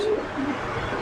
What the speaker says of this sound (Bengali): এক পেয়ার কবুতর দেখতে পাচ্ছেন